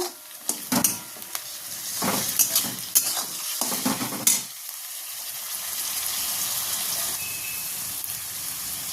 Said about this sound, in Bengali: তো দেখুন 2-3 মিনিট আমি কষিয়ে নিয়েছি আদা রসুন পেঁয়াজ একসাথে